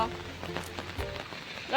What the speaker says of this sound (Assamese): চাওকচোন ইমান বৰষুণ